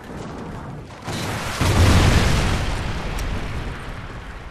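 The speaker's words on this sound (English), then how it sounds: "Friendly Trinity rocket inbound." A Trinity rocket strike detonates in Call of Duty: Ghosts (Safeguard mode), a loud broad boom swelling up and rolling on in a sustained rumble with no talk over it.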